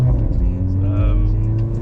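A tuned Mercedes A45 AMG engine, running sequential spacers and modifications, drones steadily close by with a deep rumbling idle and slight revving, and a voice talks over it.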